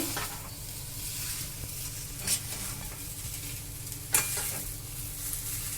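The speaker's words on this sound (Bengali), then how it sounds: "চিনিটা মিশিয়ে নেবো তেলেতে ভালো করে কষে নেবো নেড়ে নেড়ে" Sugar being stir-fried in hot oil sizzles softly and continuously, with two brief scraping knocks from the stirring spoon against the pan.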